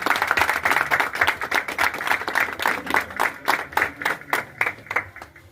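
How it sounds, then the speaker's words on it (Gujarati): A crowd gives loud, sustained applause to welcome a guest at a village gathering at a Saurashtra Gramin Bank branch in Mayurnagar, Halvad taluka, with dense clapping that thins into scattered claps toward the end. "જોરદાર તાળીઓથી આવકારીશું."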